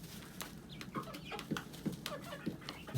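Barred Rock chickens cluck in short, repeated bursts nearby, a soft irregular chatter of several birds in a backyard flock.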